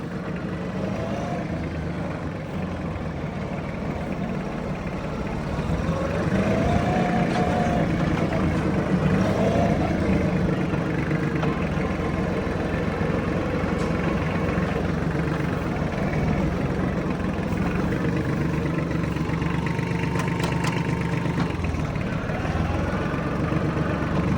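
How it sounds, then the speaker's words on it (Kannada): A Massey Ferguson 6028 Maxpro mini tractor engine idles steadily and smoothly for the whole stretch, a low continuous rumble heard close by without talk. "ಈ ಟ್ರ್ಯಾಕ್ಟರ್ನ ಸೌಂಡ್ ಕೇಳಿಸ್ಕೊಳ್ಳಿ ನೋಡಿ ಇಷ್ಟು ಸ್ಮೂತ್ ಆಗಿದೆ ಗಾಡಿ ಸೌಂಡ್"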